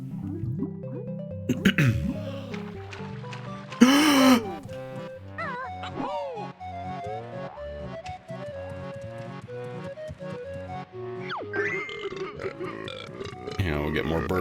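Kazooie, the bird from the Banjo-Kazooie video game, lets out a croaky cartoon burp over bouncy game music, alongside other quirky character sound effects.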